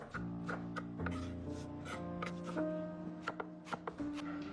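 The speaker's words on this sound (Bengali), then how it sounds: "এদিকে লালচে বাঁধাকপি কুচি করে কাটছেন উনি।" Red cabbage being finely chopped with a knife on a board, a quick run of crisp close chops, some in fast bursts, over a faint background hum.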